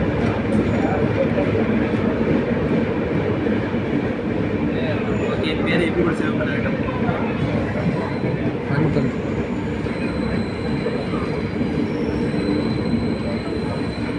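Passenger train pulling into Mandya junction in Karnataka, steady rumble of rolling railcars with occasional wheel squeal, close and continuous, with voices talking over it.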